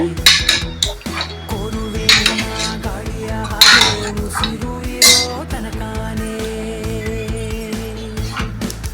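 A village-style chicken curry is stirred in a metal cooking pot, with a spoon repeatedly scraping and clinking against the pot in an uneven rhythm over a steady background hum.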